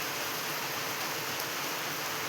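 Monsoon rain falls steadily outdoors as a soft, even hiss of drops, fairly faint and unbroken, with no voices.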